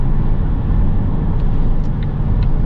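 A 2020 Volvo XC60 T8 E-AWD Polestar plug-in hybrid with a four-cylinder engine cruising on the highway, heard as a steady, loud low engine and road drone inside the cabin with no clear rise in pitch.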